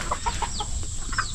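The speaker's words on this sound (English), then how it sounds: "You hear the chickens going crazy over there." Naked neck chickens cluck excitedly in quick, close, overlapping bursts, with a few higher squawks over a steady background hum.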